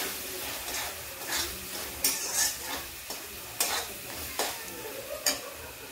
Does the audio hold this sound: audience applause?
no